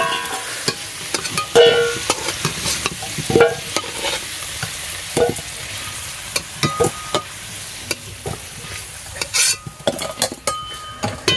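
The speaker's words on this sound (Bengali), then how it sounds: "এবার আমি আলুটাকে তুলে ফেলছি।" Potatoes with turmeric frying in a pan, with a sizzling hiss under repeated scraping and stirring clatter of a utensil against metal.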